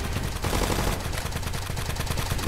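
Rapid bursts of gunfire fill a Roblox zombie-fighting game, dense and continuous with repeated sharp cracks in a steady automatic rhythm, loud and close throughout.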